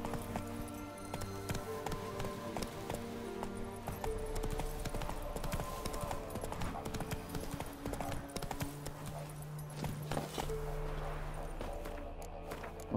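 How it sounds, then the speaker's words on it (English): Roach the horse galloping in The Witcher 3, rhythmic hoof clip-clop running steadily for the whole stretch alongside game music and ambience, with a voice speaking briefly. "Come on, Roach."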